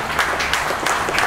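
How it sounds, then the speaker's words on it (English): Audience applause for the teachers at a Model English School reopening ceremony, a dense wash of many hands clapping at once, steady and fairly loud throughout with no clear gaps. "So I'll request everyone to give a lot of applause, a big clap to all the teachers"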